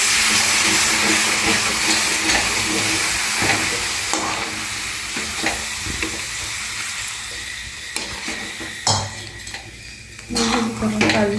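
A spoon stirs parwal (pointed gourd) curry with curd and a little added water in a pan, giving soft scraping and clinking under a steady low sizzle, with occasional sharper utensil knocks throughout.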